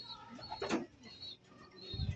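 Soft cooing of racing pigeons with a few chirps and a brief flutter, faint and fairly distant in a quiet outdoor setting.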